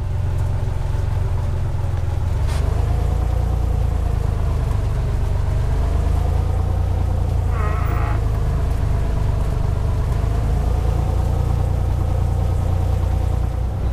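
A Cessna 182 taxiing in the Prepar3D flight simulator, its piston engine giving a loud, steady low drone that runs unbroken through the whole stretch with no talking.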